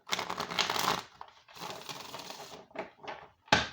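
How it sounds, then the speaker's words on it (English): A tarot deck is split and bridge shuffled, producing a close, rapid riffle of card edges, then a brief pause, another riffle and a few short flutters ending in a soft snap. "I split the deck. Okay. And then I do a bridge shuffle, okay?"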